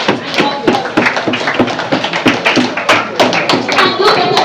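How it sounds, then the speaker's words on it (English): An audience claps hands together loudly and close at a community project gathering, producing a busy, uneven patter of claps and thuds throughout with a few voices mixed in. "So please clap your hands together and help us."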